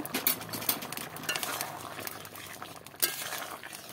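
A Bengali vegetarian kakrol curry boils in a pan with water as ghee is stirred in, a bubbling simmer broken by a few sharp clinks of a spoon against the metal.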